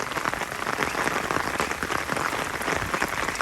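Heavy rain falls in a front yard with a guava tree and agave plants, a dense, steady patter of drops hitting surfaces, close and continuous.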